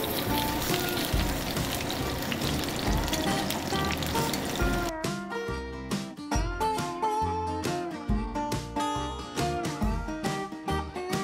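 Onions fry in a pan for Filipino beef steak (bistek), with a continuous crackling sizzle close by, joined after a few seconds by music playing over the frying.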